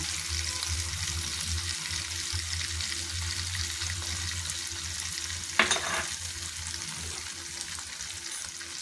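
Girmit ingredients, with chili powder and salt, roasting together in a pan for the Karnataka snack: a continuous soft sizzle with one sharp utensil scrape or clank partway through, then steady frying again.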